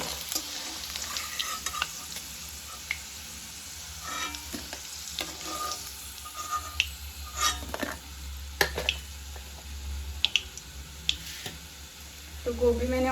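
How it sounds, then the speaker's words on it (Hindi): Boiled cauliflower goes into a pan of hot oil and fries with a steady close sizzle, stirred with scraping and clattering strokes, and a voice is briefly heard. "इसमें मैं डालती हूँ गोभी"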